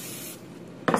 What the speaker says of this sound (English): You spray it and then you put your cookie dough in it.